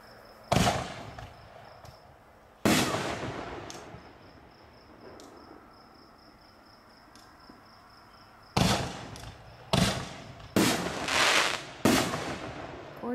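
Sir Lancelot X-Cal artillery shells launched from a high-density poly tube burst outdoors in loud, sharp booms, several spaced reports followed by a quick cluster of explosions, with crickets chirping steadily in the quiet gaps.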